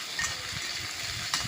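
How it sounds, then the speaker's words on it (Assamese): Onion frying in refined oil with cinnamon and cloves, a steady close sizzle with soft stirring scrapes and a couple of brief brighter crackles. "এয়া ভিডিঅ'ত দেখুওৱা ধৰণে মই পিঁয়াজটো ভাজি আছোঁ"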